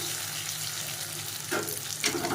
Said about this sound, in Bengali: এখানে পাঁচ ফোড়ন দিয়ে শুকনো লঙ্কা তেজপাতা পেঁয়াজ দিয়ে একটুখানে ভেজে নিলাম